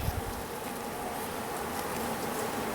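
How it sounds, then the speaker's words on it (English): Honey bees buzzing close around a beekeeper's hat at an open hive, a steady, dense insect drone with no talk. "I've got a few bees buzzing around my hat"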